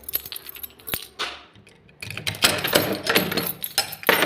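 Metal keys jangle and rattle close by, in sporadic shakes that grow busier and louder in the second half, with no voices over them.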